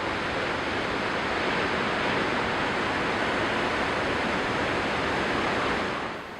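Ocean water gushing through a rock channel beside a beach outcrop at high tide, a loud continuous rushing roar of surf that holds steady and then eases slightly at the end.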